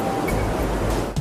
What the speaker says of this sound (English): Clean air and water are forced backwards through the system to break up and flush out anything stuck in the carbon.